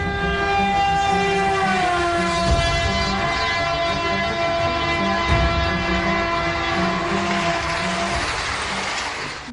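A train on railway tracks sounds a long, steady horn blast over the constant rumble of rolling wagons, loud and close the whole way through.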